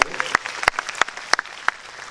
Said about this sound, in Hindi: हमारे डायरेक्टर हितेश धवन के लिए एक बार तालियां बजाइए